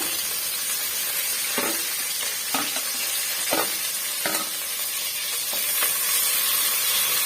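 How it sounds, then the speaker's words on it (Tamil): Onions and green chillies sautéing in a pan for a chicken gravy, a loud continuous sizzle broken by several sharp stirring scrapes spaced a second or so apart. "நல்லா வதக்கி வச்சுக்கலாம் பாருங்க நம்ம சேர்த்திருக்க வெங்காயம் ஒரு பாதி அளவுக்கு வதக்கி விட்டுக்கிட்டோம்"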